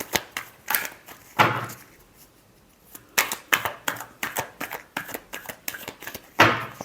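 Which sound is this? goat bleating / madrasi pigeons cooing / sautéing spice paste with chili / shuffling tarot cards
shuffling tarot cards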